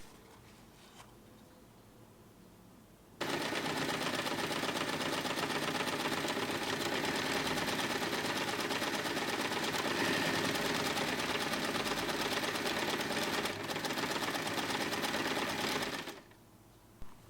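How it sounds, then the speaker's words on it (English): A sewing machine stitches the fabric outer shell of a storage basket, starting abruptly after a quiet pause and running as a steady rapid mechanical chatter for about thirteen seconds before stopping, close and alone. "Now sew along all clip sides."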